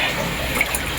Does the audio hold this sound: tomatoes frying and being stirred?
no